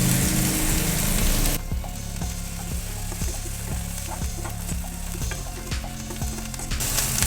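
Onion and curry leaves sauté in a hot pan while a spoon stirs them in a steady rhythm of scrapes and clicks over a continuous close sizzle, with no talking.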